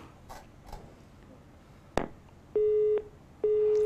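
A telephone line tone after a radio show caller drops: a faint click, then two steady, loud electronic tone bursts of about half a second each, separated by a short gap.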